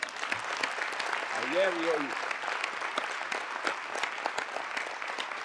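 Applause from an audience at the closing session of a Communist Party Central Committee plenum in Cuba, steady dense clapping throughout, with a brief spoken phrase over it.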